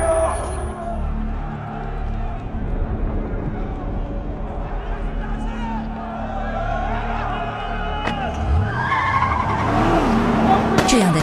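A car, apparently a police vehicle, accelerates hard and flees from armed militants near a US consulate, its tires skidding and squealing under continuous voices and other commotion, with the engine growing louder toward the end.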